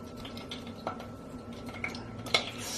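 Stirring melted suet and peanut butter in a pot on the stove for homemade bird suet, a quiet series of scattered metallic clinks and scrapes of a utensil against the pot, with one sharper knock near the end.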